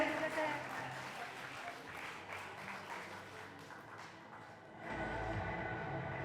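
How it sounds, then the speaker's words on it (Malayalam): Applause at a wedding ceremony, a soft, distant crowd clapping that carries on steadily under a reverberant hall, with a louder swell near the end; voices are faintly present. "നല്ലൊരു കയ്യടി."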